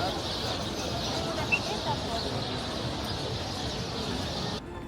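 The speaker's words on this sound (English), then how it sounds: "The birds all descend upon that tree before sunset and make quite the noise." A dense flock of birds gathered in a tree before sunset in Crete, their calls merging into a continuous high chatter, with an occasional sharper chirp standing out.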